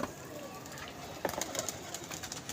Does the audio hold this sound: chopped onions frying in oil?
no